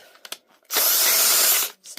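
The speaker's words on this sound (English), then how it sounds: "so I will do that with my drill" A power drill backs a screw out of a wooden blanket loom in one loud, steady whir of about a second, with faint clicks and handling noise before and a brief burst after.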